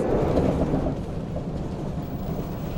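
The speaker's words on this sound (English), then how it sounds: "I like the movement of trains and the noise of trains." Steady rumble of a New Zealand train rolling along the rails, with a constant low roar and faint rhythmic clatter and no pauses.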